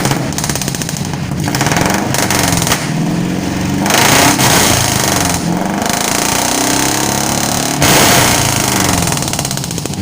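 A pickup truck engine with a DS Racing aftermarket exhaust revs repeatedly, a loud, raspy, continuous drone rising and falling in pitch with short throttle lifts, up close with no talk.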